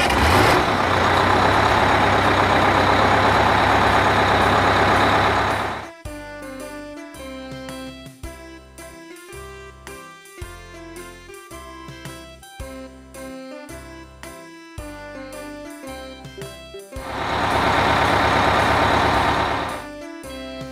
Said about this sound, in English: Trailer truck with excavator.